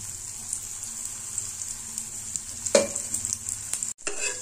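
Banana pancake sizzling in oil in a pan over medium heat, a steady crackling fry with scattered pops, a brief scrape midway and a sudden cut near the end before the sizzle resumes.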